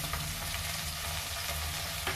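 Onion-free fried rice sizzling steadily in a pan after salt is added, a close, continuous frying hiss with faint stirring, no voices.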